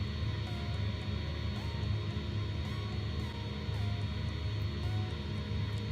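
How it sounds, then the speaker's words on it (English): A turboprop airliner comes in to land in the X-Plane 11 flight simulator, a constant broad engine drone with a steady low hum and tonal whine, some faint pitch glides over the top, no speech. "We've got this plane coming into land."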